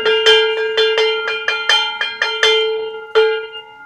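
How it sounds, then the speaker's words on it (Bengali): A hand bell struck about ten times during Janmashtami worship, in a quick, slightly uneven rhythm, loud and close, each ring bright and lingering before the next. "ঘন্টাটা পিটাও তো।"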